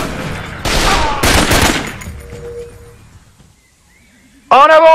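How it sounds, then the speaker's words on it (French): Jungle combat in the video game Raven Squad brings loud, close bursts of rapid gunfire that fade into a quiet stretch, followed by a sudden loud voice at the end. "On me tire dessus!"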